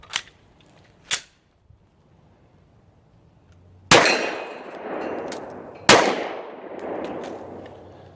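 Sig P320 pistol firing reloaded rounds, two sharp faint clicks from the trigger, then two loud gunshots about two seconds apart, each leaving a ringing decay.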